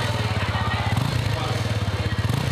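A Honda XRE 300 Sahara motorcycle engine runs with a steady, throbbing low pulse. It sounds close and fairly loud, like a single-cylinder idle or gentle rev, with a slight rise in pace midway.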